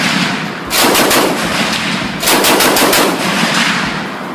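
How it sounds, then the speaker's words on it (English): An MG42 machine gun, the German weapon built in 1942, fires two long, extremely rapid bursts, loud and close, with a brief gap between them. "The MG42, built in Nazi Germany in 1942, is one of the most iconic and feared machine guns in military history."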